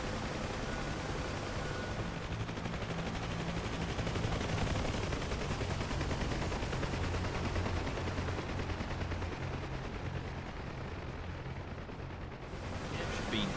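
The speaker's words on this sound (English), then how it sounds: "we got gunners firing off to the left" Rapid gunfire from ground gunners in the DCS World combat flight game, heard from a UH-1H Huey helicopter as a dense, continuous roar of shots that never lets up.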